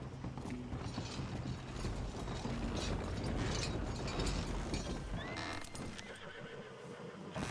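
Horse sounds in the video game Red Dead Redemption 2, with clopping hooves and harness clatter under a busy town ambience and a neigh standing out near the end, moderately loud and continuous.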